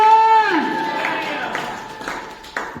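A church congregation claps during a woman's Hindi testimony of healing, with steady rhythmic claps under her continuing voice.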